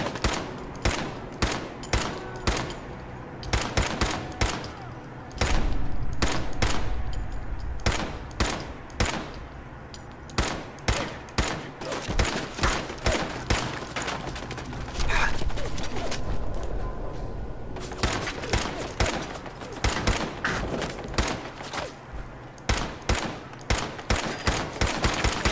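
Automated turrets in the video game Fallout 4 fire in a rapid stream of gunshots, with bursts and single cracks repeating throughout, some dense stretches of continuous fire and brief gaps between.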